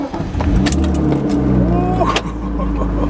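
A turbocharged BMW E36 M3 engine rumbles steadily at idle close by, a deep continuous drone with a brief clatter of keys, and a person talks briefly over it.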